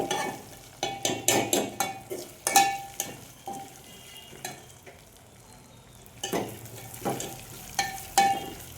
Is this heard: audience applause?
no